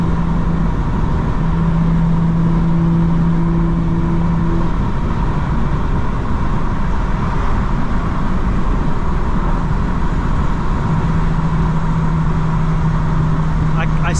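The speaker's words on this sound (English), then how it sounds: "That engine is whining, but it's like an electrical whine, like something's wrong." Steady engine drone from a red Toyota passing nearby, carrying a thin electrical whine that rises and holds in long level tones over continuous road and cabin rumble, loud and close throughout.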